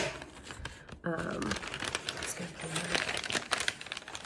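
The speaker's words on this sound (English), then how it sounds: "sorry for the rustling." Crinkling packaging rustles in close, irregular bursts of crackle, with a voice talking over much of it.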